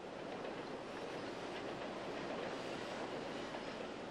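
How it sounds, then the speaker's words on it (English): The Royal Canadian Pacific heritage train rolls into a station near Fort Steele, British Columbia, with a steady rumble of wheels on rail, faint rhythmic clacking and a soft hiss, heard at a moderate distance without talk. "As the train pulls into the station, the motor coach is once again waiting to transfer passengers to the heritage town."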